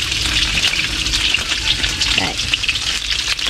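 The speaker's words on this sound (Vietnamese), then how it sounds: "Mẹ sẽ chiên hết cái đống cá này" Fish deep-frying until crispy in a pan of hot oil, giving a loud, steady, dense sizzle and crackle throughout, with a brief spoken word partway through.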